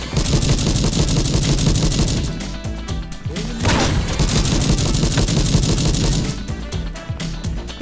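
Enemy gunfire in the video game A.W.O.L., a dense, sustained barrage of rapid shots and bursts that stays loud and close for the whole stretch, with a brief dip in the middle.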